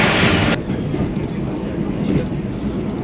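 A passenger train rolls along at speed as heard from the last coach near the Jhelum River crossing, a loud, steady rumble of wheels and rails with a sharp hiss cut off in the first half second.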